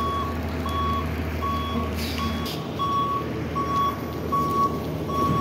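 A Peterbilt roll-off trash truck backs up with a steady series of evenly spaced reversing beeps over a loud diesel engine rumble, close by and without talk.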